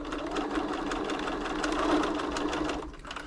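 A Bernina B325 sewing machine stitching blue non-stretch fabric after a service, running in a steady rapid mechanical whir with a faint rhythmic needle clatter, close and continuous without talk.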